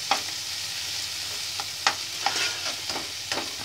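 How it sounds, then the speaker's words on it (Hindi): Green chillies and onions frying for vegetable poha give a steady close sizzle, punctuated by repeated scraping stirs of a spatula against the pan. "साथ ही मैं अब ग्रीन चिल्ली डाल रही हूँ"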